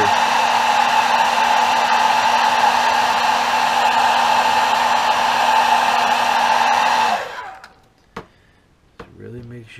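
A hair dryer blows steadily and loudly up close to dry paint on a custom bluegill crankbait lure, then cuts off, followed by a few small clicks.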